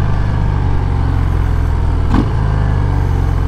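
A 2020 Harley-Davidson FXDR 114 motorcycle with its stock exhaust idles steadily nearby, a low continuous engine rumble throughout with one brief louder blip partway through.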